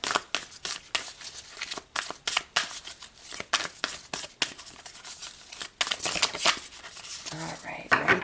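Tarot cards shuffled and riffled by hand in rapid bursts of crisp papery flutters and snaps, close and clear, with a short pause partway and a faint voice near the end.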